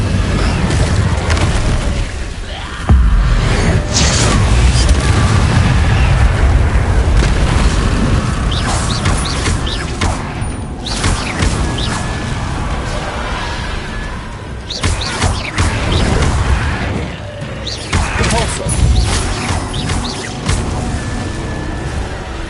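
An Incendio fire spell cast in a Hogwarts video game erupts as a loud, sustained roaring blast with crackling bursts and booms that keep rumbling throughout, close and dense with no pauses.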